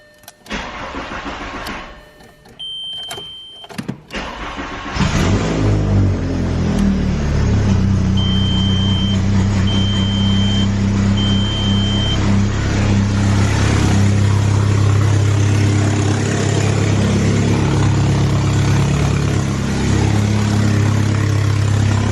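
A VW MK4 Jetta fitted with a new gasket cranks and fires up after a few seconds of clicks and rattles, then settles into a loud, steady, rumbling idle that holds close by.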